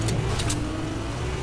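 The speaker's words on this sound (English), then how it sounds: "Have you ever driven an off-road Lamborghini? No, but you can in Fortnite." An off-road Lamborghini driven in Fortnite gives a steady, close engine drone with low rumble throughout, joined near the start by a few brief higher bursts, and no talking over it.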